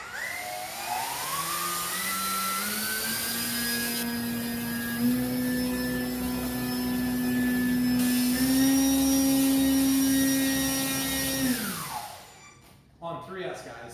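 A Night Timber X electric RC plane motor whines loudly and steadily while hovering indoors under a high ceiling, its pitch rising as throttle comes up, holding, then dropping away to near silence at the end.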